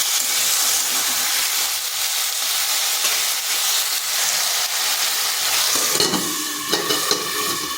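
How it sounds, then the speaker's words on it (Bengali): Potato and taro pieces fry in a pan with a steady, bright sizzle and crackle that carries throughout, close and fairly loud, with stirring clatter near the end and no talking. "এরপর আলু আর কচুটাকে ভেজে নেব"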